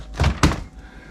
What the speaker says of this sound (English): So what we'll do is we'll open this door up